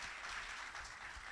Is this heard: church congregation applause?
yes